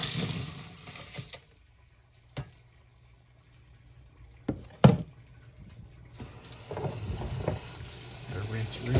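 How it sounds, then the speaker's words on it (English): Tumbled tiger's eye stones are washed and rinsed, with rattling clinks and running water at the start and again toward the end. A quiet stretch in the middle holds a few sharp clicks. "so we're going to wash these"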